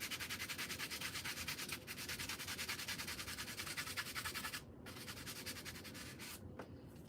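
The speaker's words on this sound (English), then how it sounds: "I'm just gonna sand the top." Steady, continuous sanding on the top of an acrylic tumbler, a close, even rubbing scratch that runs without pause and briefly cuts out twice near the end.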